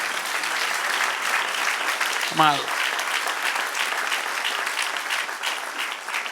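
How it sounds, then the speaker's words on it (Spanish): A church congregation applauds in a steady, dense wash of clapping that fills the whole stretch, with a single spoken word breaking through briefly partway. "Denle un aplauso al que reina"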